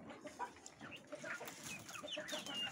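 Native hens clucking on a small rooftop, a busy run of short soft clucks and chatter from several birds, fairly close and steady over faint outdoor background noise.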